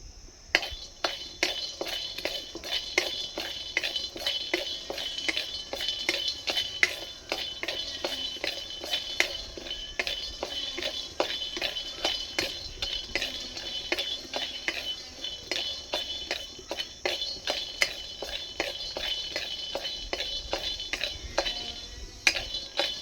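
Peanuts dry-roasting in a dry wok, a busy stream of light rattling clicks and scrapes as the nuts are stirred and shuffled against the metal, steady and close with no talk.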